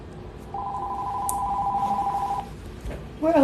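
A business telephone rings once in a salon during a leg sugaring session, a steady electronic tone lasting about two seconds at moderate distance, followed by a brief rustle and a soft voice near the end.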